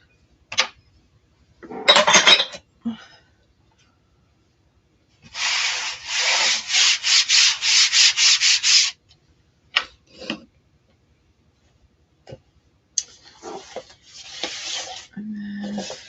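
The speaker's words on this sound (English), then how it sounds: "I'm going to get a squeegee out." A squeegee scrapes chalk paste across a stencil on a wooden faux pallet sign in several close, rasping strokes, with short taps and rubs between passes and no talking.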